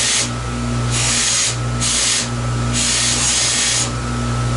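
A toothed rake dressing the surface of a fabric polishing wheel during flute polishing, giving four bursts of rough rasping scrape over the steady motor hum of the spinning wheel.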